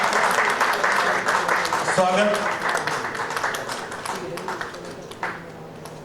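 Audience applause at a book launch for Dard Bhari Muskan, a moderate patter of clapping from a small crowd that fades gradually, with someone speaking over it.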